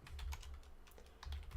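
A short burst of close keystrokes comes from a computer keyboard as someone types a check disk command, with a handful of soft clicks in two quick clusters and no one speaking.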